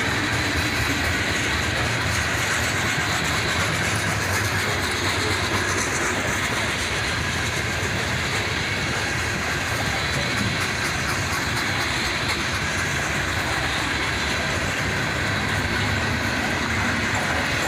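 A CN freight train hauled by SD40-3 locomotives rolls past with a mixed consist of cars, a continuous loud rumble and rattling wheel noise holding steady throughout.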